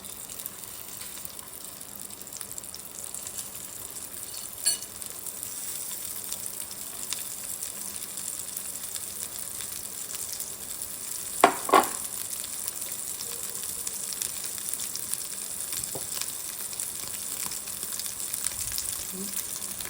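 Marinated paneer tikka pieces fry lightly in a pan, a soft steady crackle of oil with a couple of brief louder clinks midway and no speech.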